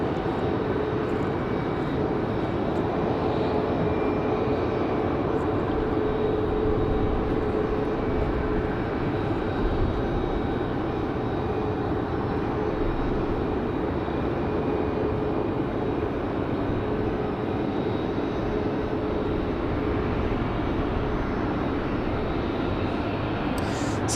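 Airliner at Raleigh Durham International Airport, a broad, steady engine roar heard from a distance, holding at an even level throughout with no voices.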